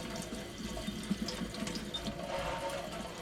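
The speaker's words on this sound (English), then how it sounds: "Rinse it off good, lukewarm water" Lukewarm tap water runs steadily into a sink, rinsing a hydro-dipped carbon-fiber light switch cover, giving a soft continuous splashing and trickling with slight shifts as the part moves under the stream; no talking.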